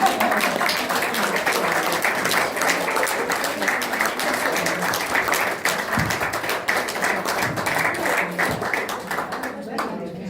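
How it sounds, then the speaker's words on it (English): Audience applause at a coffee-and-cake talk, a loud sustained burst of many hands clapping from a nearby crowd, fading slightly toward the end. "please give a round of applause"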